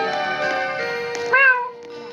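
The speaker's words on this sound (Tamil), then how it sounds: "கிராணி இது உன்னோட அன்பான பூனை வந்துக்கிட்டு இருக்கேன்" Cat meowing in the Granny video game, a clear tonal meow rising near the end, with faint ticking clock-like clicks and soft game ambience underneath.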